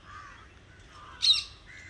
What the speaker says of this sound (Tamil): அதுக்கு மேலே போய் காக்கா ஒன்று நிற்கிது பாருங்க.